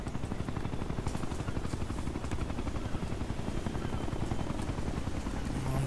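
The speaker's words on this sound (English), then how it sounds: "The damn helicopter's coming! Can you not hear it?" A helicopter approaches in the video game Ghost Recon: Future Soldier, its heavy rhythmic rotor thump loud and continuous, with no voices over it.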